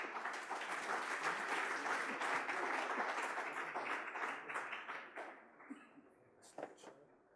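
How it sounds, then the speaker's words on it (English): Warm audience applause greets a team walking onstage at a pitching competition, a sustained crowd clapping that thins into scattered claps and fades toward the end. "Let's settle those nerves with a big round of applause."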